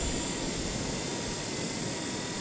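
A steady, high-pitched motor whine and rushing air hum continuously, like a drone hovering nearby, with no other sounds.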